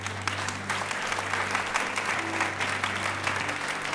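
An audience claps at a French talk, dense sustained applause filling four seconds at steady loudness, close and even, with no voices standing out.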